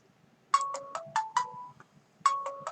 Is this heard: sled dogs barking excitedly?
no